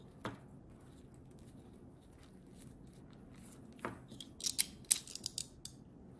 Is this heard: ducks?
no